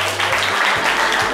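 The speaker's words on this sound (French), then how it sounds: "on peut l'applaudir très fort" A live show audience applauds loudly in a short, dense burst of clapping, with a voice faintly audible underneath.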